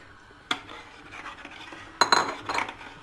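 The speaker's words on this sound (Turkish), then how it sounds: "Bu şekilde böyle sürekli karıştıracağız arkadaşlar" A spoon scraping and clinking against a pot while stirring sütlaç, Turkish rice pudding mixture, with two sharp knocks and soft scraping strokes between them, close and alone.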